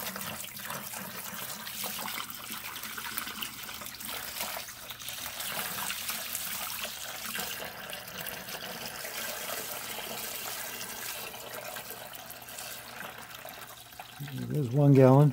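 Water trickles and pours into a pot being set up for electrolysis rust removal on a Model T Ford transmission, a continuous splashing flow that swells louder near the end, with a voice talking over it.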